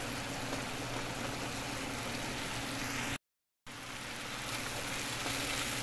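Chicken gizzards frying in a pan with tomatoes, a loud continuous sizzle close up, briefly cut to silence midway before the hissing resumes.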